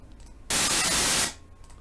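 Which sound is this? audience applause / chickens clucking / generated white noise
generated white noise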